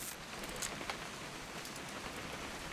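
Steady rain falls in the video game What Remains of Edith Finch, a soft, even hiss of drops with a few brief louder patters, fairly quiet throughout and with no voices.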